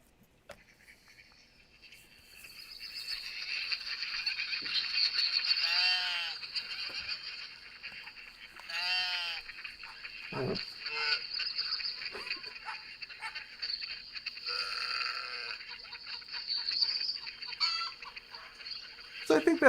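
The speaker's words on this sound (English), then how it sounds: "Listen to some farm sounds." Farm animal sound effects, bleating goats or sheep and poultry calls with insect-like buzzing, are played back for a model railroad layout, heard as scattered calls over a thin steady hiss at moderate level.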